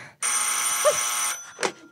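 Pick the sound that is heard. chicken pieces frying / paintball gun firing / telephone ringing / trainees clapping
telephone ringing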